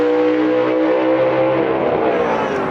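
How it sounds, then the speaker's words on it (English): Gasser drag race cars at Brainerd Motorsports Park, a loud, close engine roar holding a steady, rich tone as they run, briefly and with no talk over it. "Good drag race right here"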